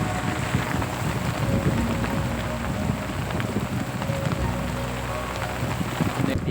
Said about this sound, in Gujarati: બહુ વરસાદ પડે છે જો મિત્રો.